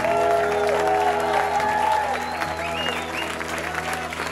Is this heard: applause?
yes